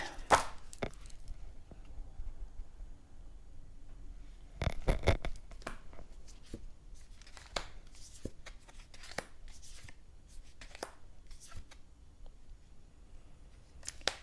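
A deck of tarot-style cards is shuffled and pulled by hand in a quiet room, giving soft, irregular riffles, flicks and taps, with a brief denser burst of shuffling partway through.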